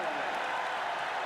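A basketball arena crowd at a 1988 NBA game between the Indiana Pacers and the New York Knicks roars in a steady, dense wash of cheering noise.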